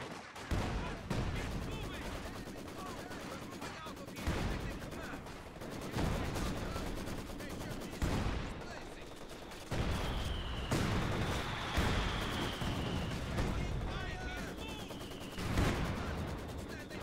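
Sustained bursts of machine gun fire in the World War II strategy game Company of Heroes 2, loud and close with repeated rattling volleys and heavier booms, under a steady battle din with occasional in-game voice callouts.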